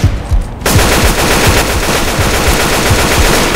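Continuous rapid AK rifle fire from Left 4 Dead 2, loud and dense with a steady rattling rhythm, starting abruptly after a brief quieter lead-in and running without pause.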